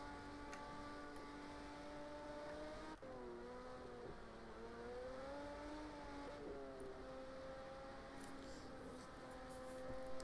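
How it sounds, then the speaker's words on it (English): A Jaguar race car at the 2019 Le Mans race passes at a distance, its engine note steady and faint, then dipping in pitch as it goes by, with continuous track ambience throughout. "So just listen to this Jag"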